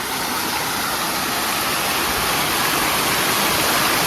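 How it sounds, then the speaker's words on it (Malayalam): Constant broadband rush of a mountain stream flowing down from above in the Valley of Flowers, Uttarakhand, dense and unbroken, close and fairly loud with no voices. "മലയുടെ മുകളിൽ നിന്ന് വരുന്ന വെള്ളമാണ്"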